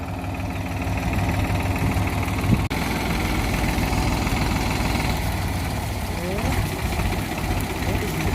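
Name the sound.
tractor engine running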